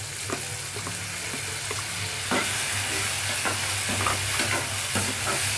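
Chopped tomatoes and onions fry in a pan for bheja fry, with a steady loud sizzle and repeated scrapes and clinks as a spoon stirs them, and no one speaks.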